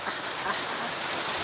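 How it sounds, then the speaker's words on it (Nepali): Rain finally falls after a long dry spell, a steady broadband hiss of drops on the ground, close and continuous for a brief moment with no voices. "पानी पऱ्यो फाइनली यत्रो दिन पछि पानी पऱ्यो"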